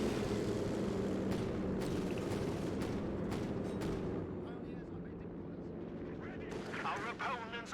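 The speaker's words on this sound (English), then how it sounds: "2 Hawker Typhoons strafing the battlefield" Two Hawker Typhoon aircraft strafing a battlefield with guns and rockets in a video game make a loud, continuous roar of firing and explosions, with sharp bursts punctuating the dense noise and a voice talking over it.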